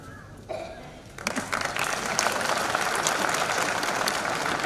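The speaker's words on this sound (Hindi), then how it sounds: "ये तालियां बजाने को क्या होता है?" Audience applause breaks out at an anniversary ceremony in Gwalior, starting after a moment of quiet and building into steady, dense clapping from a large crowd that continues to the end.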